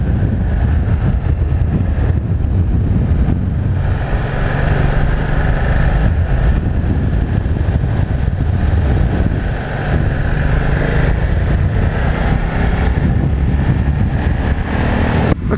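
A Ducati Multistrada 1260 S motorcycle being ridden with a quick shifter, its engine droning loud and steady over heavy wind rush throughout.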